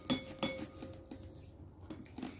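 A spoon clinks and scrapes against a bowl in quick, light taps while fruit salad is mixed, close and faint, with no talk.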